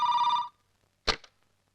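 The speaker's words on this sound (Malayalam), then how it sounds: "അതാ ഫോണിൽ ചിലക്കാൻ തുടങ്ങി." An indoor telephone bell rings in a single bright, loud burst that stops abruptly, followed after a pause by a short sharp click, in a Malayalam comedy scene.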